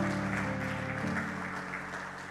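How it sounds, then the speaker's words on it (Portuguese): Church congregation clapping together after a prayer, a dense steady wash of applause under a lingering organ or keyboard chord that slowly fades. "Você pode aplaudir o nome do Senhor Jesus"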